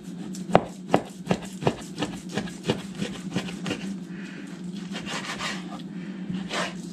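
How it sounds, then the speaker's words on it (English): Pork belly being chopped on a board with a knife: a run of sharp, evenly spaced thuds that then softens into quieter rubbing and cutting sounds. "We'll cut them up the other way."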